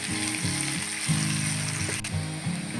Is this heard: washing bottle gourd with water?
no